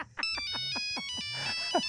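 A phone ringtone plays on its own, a quick repeating electronic melody of bright tonal pulses, close and clear, with no talk over it.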